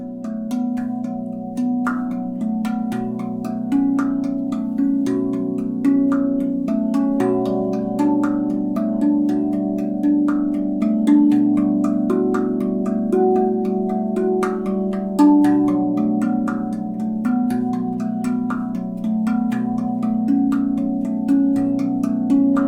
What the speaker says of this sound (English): Today I want to show you a little song you can play on the B Kurd.